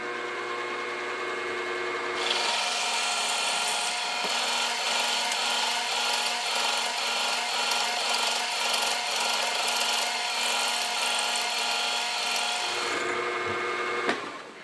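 A machine cuts a counterbore into a metal vise stop in one long, steady, loud whine, with a motor drone starting before the cut and lingering after it ends. No voices are heard.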